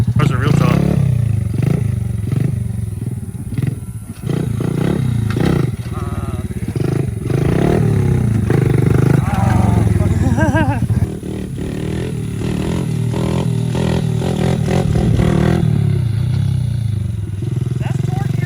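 Small four-stroke engine of a Honda ATC 90 three-wheeler, fitted with a different, torquier motor, revs and bogs in uneven bursts close by, loud and continuous, while people talk over it.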